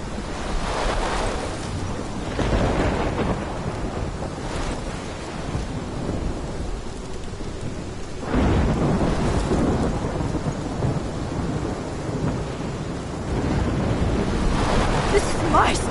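A rolling thunderstorm with heavy rain in the Life Is Strange video game, with a dense, continuous roar of downpour and low rumbling swells of thunder that build and recede throughout.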